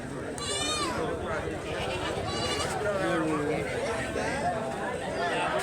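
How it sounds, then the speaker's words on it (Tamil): Goats and sheep bleat repeatedly at a livestock market, wavering calls overlapping a busy crowd murmur, with someone talking close by throughout. "இதில் ஒரு செங்குட்டி மூணு வெள்ளாடுகள் நல்லா கடா குட்டியாக தான் இருக்குது"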